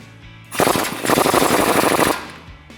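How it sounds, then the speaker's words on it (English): Pneumatic impact gun loosening bolts on a 2019-2023 RAM 1500 suspension during a lift kit install, a loud close rapid hammering burst lasting about a second and a half, then stopping. "got my impact gun on the outside"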